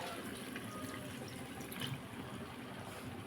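Water pours into coriander chutney in a home kitchen with a steady, soft trickling splash that stays even and close for a few seconds, with no voices.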